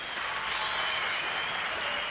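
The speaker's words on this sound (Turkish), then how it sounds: "Ebru Gündeş alkışlarınız için." A television talent-show studio audience claps in a thick, even burst of applause that stays loud and unbroken for a couple of seconds.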